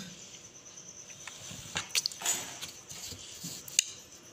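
A few quiet snips of scissors cutting chudidar fabric, short crisp clicks around the middle and near the end over a low room hiss.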